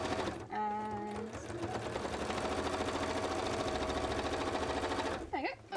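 Sewing machine stitching cosplay fabric, running in a continuous fast rattling whir for several seconds, with a person's voice briefly over the start and end.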